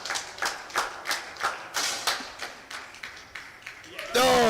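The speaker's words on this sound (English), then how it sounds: "You can hear the reaction of the crowd straight away" Applause and cheering break out from a crowd at a men's 10m air rifle gold medal final after a perfect shot, a run of sharp rhythmic claps swelling then trailing off, with a brief electronic tone at the end.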